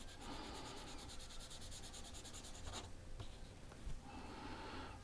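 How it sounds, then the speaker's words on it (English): Close, rhythmic rasping of a sanding stick on a Matchbox cattle truck mudflap, pausing briefly in the middle with a couple of light knocks, then resuming. "Do a little sand, oops, a little sanding"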